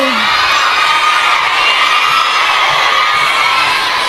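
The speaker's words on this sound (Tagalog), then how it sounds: "dahil kayo ay uh, sumisigaw ng Duterte" A big crowd at a PDP senators' proclamation rally in a Hong Kong stadium shouts and cheers without a break, a loud, dense roar that fills the whole stretch.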